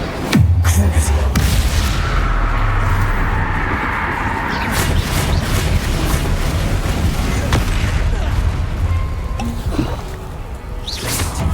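Incendio fire spell cast in Hogwarts Legacy, a loud, continuous roaring blast of flame with rumbling booms that lasts the whole stretch, dense and close, with only brief dips near the end.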